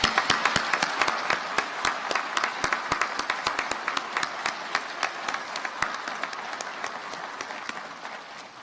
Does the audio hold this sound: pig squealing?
no